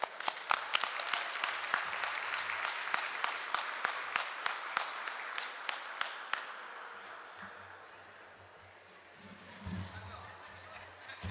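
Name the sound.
audience applause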